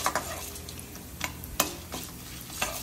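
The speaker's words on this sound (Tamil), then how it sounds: "இது நல்லா பொரிஞ்சு வரட்டும்." Cashews and peanuts frying in oil in a pan, a soft continuous sizzle broken by several quick stirring scrapes, close and fairly quiet.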